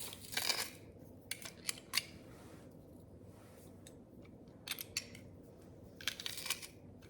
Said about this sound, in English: I'm going to take 2 garlic cloves and mince these.